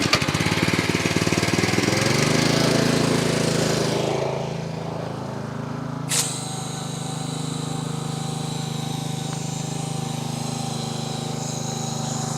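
A pressure washer runs loudly with a steady engine drone while spraying soap lather onto a machine. The engine then drops to a quieter, steady hum after a brief sharp click.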